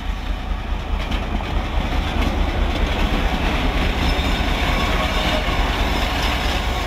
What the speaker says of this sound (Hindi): कुंदिया शेड का लोकोमोटिव है जो कि लीड कर रहा है मलकवाल पिंडरादन खान शटल ट्रेन